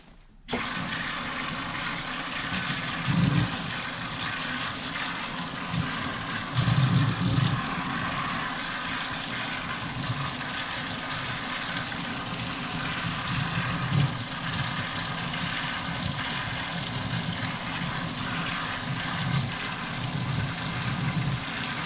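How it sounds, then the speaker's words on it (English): Running water rinsing soap off a mat after adhesive-tape residue cleaning, a loud, steady rushing spray that continues for a long stretch with small surges and no talking. "it has been rinsed off. That's literally it, just a quick little rinse"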